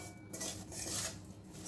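Amla pickle with spice mix and jaggery is being stirred in a steel kadhai, giving a faint, continuous scraping and rubbing of a spoon against the metal pan, soft and steady throughout.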